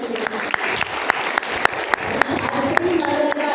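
An audience at a spiritual talk on bringing happiness into life claps together in a steady roar, with sharp, regular accents cutting through, while a voice carries on beneath.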